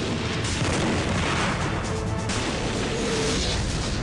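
Cannon fire in a battle reenactment of the 1683 relief of Vienna, a dense, loud, sustained rumble of booming blasts and crashes that fills the whole stretch with no pause.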